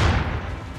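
Tank cannon shot in the artillery game ShellShock Live, a single booming blast that decays over under a second, heard alone.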